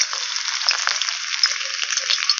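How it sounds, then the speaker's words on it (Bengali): Chopped garlic frying in white oil in a wok, a steady bright sizzle with small crackles and pops throughout, close and alone, no voices. "এবার কড়ার মধ্যে দিয়ে দিচ্ছি সাদা তেল। তেলে দিয়ে দেবো রসুন কুচি"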